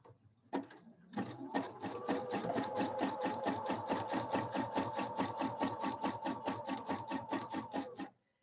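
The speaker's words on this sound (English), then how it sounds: "I'm going to do a few stitches and then I'm going to back up." A sewing machine stitching a zigzag seam on a throw pillow, a couple of short starts and then a steady, fast, even run of mechanical stitching beats lasting several seconds before it stops cleanly.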